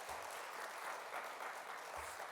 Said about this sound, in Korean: 인사만 했는데도 박수를 쳐주시네요